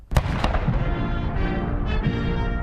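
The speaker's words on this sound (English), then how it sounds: "Cannons fired off a 21-gun salute as Hail to the Chief played" Ceremonial cannons fire a 21-gun salute at a state farewell for President George H. W. Bush in Washington, D.C., with a couple of sharp booms and then a loud, rolling rumble that fills the rest of the moment.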